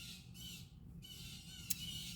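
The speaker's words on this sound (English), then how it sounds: "the birds are talking to each other. Those must be blue jays." Blue jays calling outside an open window, a few harsh squawking calls heard at a moderate distance, with a brief sharp chirp near the end over steady outdoor background noise.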